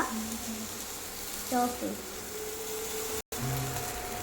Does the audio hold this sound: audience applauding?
no